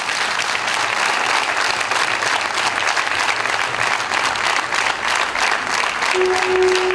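A concert audience applauds a singer with dense, sustained clapping that stays loud and steady throughout, with a faint tonal note entering near the end.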